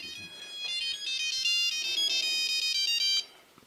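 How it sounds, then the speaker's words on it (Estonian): A phone ringtone rings in a repeating electronic melody for about three seconds, clear and moderately loud, then cuts off. "keegi vist helistab"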